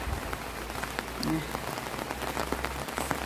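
Rain falling steadily on a Thai vegetable garden in Hungary, a dense, even patter of drops on leaves and surfaces, fairly close, with a faint voice briefly in the background.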